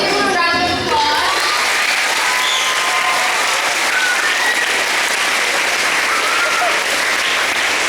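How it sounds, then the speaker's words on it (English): A school audience of children applauds loudly and steadily for a visiting guest, a dense wash of many hands clapping with scattered shouts, starting abruptly after a brief moment and continuing unbroken throughout. "Let's give them a round of applause"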